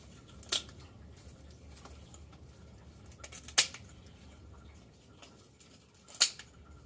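Kitchen shears snip through a turkey's backbone and ribs, three sharp crunching cuts spaced a few seconds apart over a quiet background.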